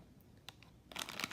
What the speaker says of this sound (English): let's use our trusty scissors over here